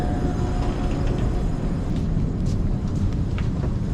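A steady low rumble and rattle of a moving train in Taiwan fills the space evenly, with faint higher squeaks drifting over the constant drone.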